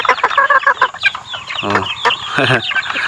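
A pet chicken of a home-bred breed clucks loudly and close, with quick bursts of cackling and squawks running continuously.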